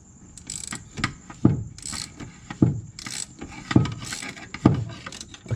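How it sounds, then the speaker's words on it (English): Ratchet loosening a flex disc (guibo) nut and bolt on a BMW E30 driveshaft, heard as several bursts of quick mechanical clicking, close up, with brief metallic knocks between. "now you're going to be able to loosen this nut and bolt"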